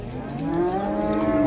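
A bull at the Do'rmancha livestock market gives one loud, drawn-out moo that rises and holds, up close over faint market background noise.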